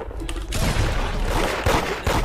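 Rapid gunfire bursts from the Roblox game Da Hood, a dense fusillade of loud overlapping shots running through the whole stretch with a few sharper cracks toward the end.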